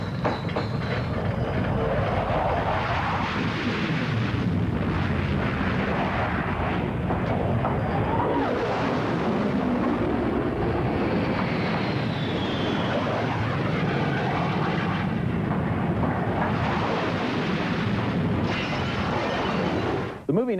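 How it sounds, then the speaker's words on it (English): Bomber aircraft streak overhead in a film scene, a loud, dense roar that rumbles continuously for about twenty seconds, swelling and ebbing without any clear break, with no voices heard. "bombers streaking overhead on their way to begin World War III"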